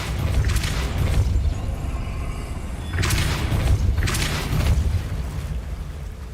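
The Depulso force-push spell from Hogwarts Legacy lands in heavy whooshing bursts, with two sharper hits near the end over a low rumbling backdrop.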